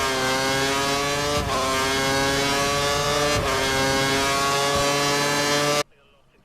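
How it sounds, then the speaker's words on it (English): Formula One race car engines from the F1 2013 video game wail in a loud, steady high-pitched whine, with brief gear-shift dips before cutting off abruptly near the end. "listen to the way the cars sound in the F1 2013 game"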